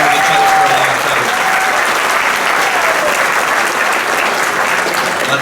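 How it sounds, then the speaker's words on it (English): A high school graduation audience applauds loudly and steadily, dense clapping filling the whole stretch with a little crowd murmur. "Let's give them one more round of applause."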